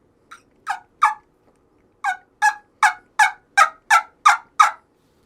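Turkey gobbler yelps imitated on trumpet and wingbone calls: a series of about eleven sharp, high, close calls in quick bursts, a short pause after the first three, then a steady run of evenly spaced notes.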